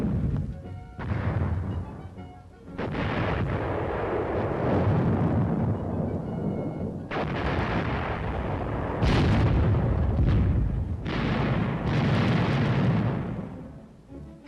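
Artillery fire at Camp Fuji army training in Japan, with repeated heavy booming blasts and long rumbling rolls that overlap and echo across open ground, loud and distant-sounding, with no talk.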